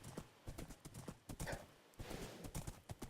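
Horse hooves clip-clop in a steady, quick rhythm in a medieval-style video game, with a brief whinny partway through; the clopping is close and clear, with no talking over it.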